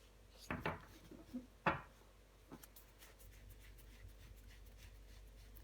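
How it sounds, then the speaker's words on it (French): Tarot cards laid down and covered on a table, a few soft slaps and rustles spaced apart, quiet and close, with faint handling noise in between. "Je vais recouvrir des cartes."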